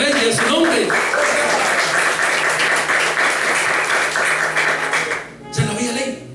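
A church congregation applauds loudly and steadily in praise during a year-end service, the dense clapping wash holding for several seconds before breaking off, with a voice speaking over it.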